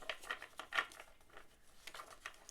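A large tarot card deck being shuffled by hand, giving a run of soft papery riffles and crinkly card slaps in quick uneven bursts, close and fairly quiet with no talking.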